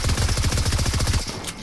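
Rapid automatic gunfire from a spammer gun in Fortnite, a fast steady burst of about a dozen evenly spaced shots, loud and close, that stops abruptly near the end, with no talking.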